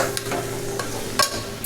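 Fried onions are stirred in a pan with a spoon while cooking a potato curry, faint scraping strokes over a low, steady sizzle, with no talking.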